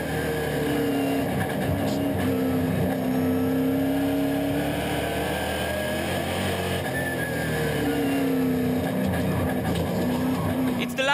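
Onboard NASCAR Whelen Euro Series race car on the final laps at Tours Speedway, its engine loud and continuous with rising and falling revs through gear changes and corners, the commentator's voice over the top.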